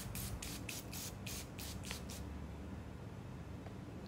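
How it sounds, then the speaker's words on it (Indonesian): A face mist bottle sprays in a quick run of about eight short, close hissing bursts, followed by a low, steady room hiss. "Terakhir aku bakal semprot muka aku pakai face mist biar nggak kering."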